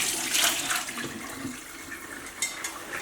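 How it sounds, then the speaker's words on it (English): Liquid from cooking baby back ribs in a slow cooker poured from the pot into a kitchen sink, a steady splashing gush of water that runs throughout and tapers near the end. "I'm just going to pour that down the sink here"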